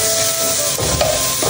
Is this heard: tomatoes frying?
yes